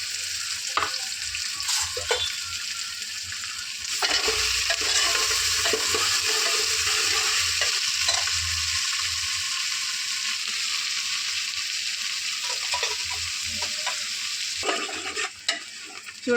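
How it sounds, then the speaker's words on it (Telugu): Sliced onion and green chillies sizzle steadily in a hot pan for mutton paya, a constant bright frying hiss with intermittent scraping stirs and a few clinks, close up and without talk. "ఆనియన్ కొంచెం గోల్డెన్ బ్రౌన్ కలర్ వచ్చే వరకు ఫ్రై చేసుకోవాలి"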